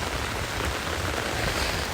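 Steady pouring rain from Hurricane Delta at Dollywood, a dense, even hiss of drops hitting the ground nearby.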